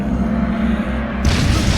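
Explosion in the underwater game Dave the Diver: a low rumbling boom under game music, then a sudden brighter burst of noise in the final half-second.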